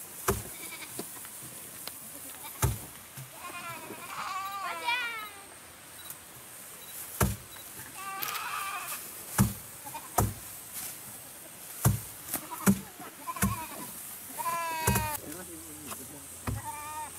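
A goat brought along to a rice threshing field in terraced paddies bleats several times in wavering calls, amid clattering knocks and people chatting nearby.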